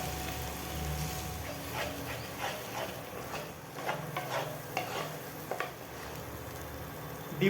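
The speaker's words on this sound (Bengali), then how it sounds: "ডিমগুলো দিয়ে এবার ভালো মতো মিক্স করে নেব আমি।" Eggs stirred and fried in a pan for egg rice, with a steady sizzle under repeated scraping stirs of a spatula, close and moderately loud throughout.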